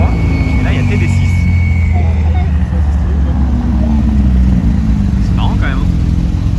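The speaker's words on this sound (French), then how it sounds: "Je peux quand même toujours filmer les voitures qui sont là, évidemment." Cars roll past at a Vauban car gathering under a steady, loud engine drone and road rumble, close by and continuous, while people talk over it.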